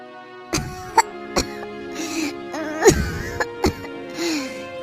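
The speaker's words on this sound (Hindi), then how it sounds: "ये कैसी खांसी है?" Several harsh coughs come in separate bursts, some hoarse and strained, with soft groaning between them and background music.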